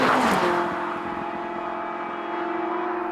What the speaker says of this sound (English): The McLaren 675 obviously has a lot of hype around it